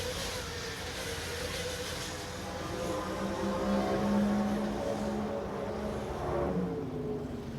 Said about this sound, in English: I can hear quite a bit of drivetrain whine.